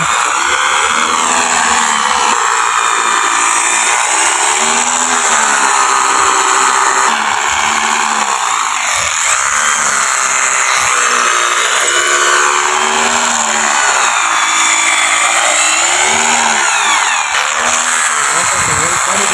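An electric drill bores holes into stone blocks during block-setting work, a loud, continuous whine that rises and falls in pitch as the bit grinds through the stone.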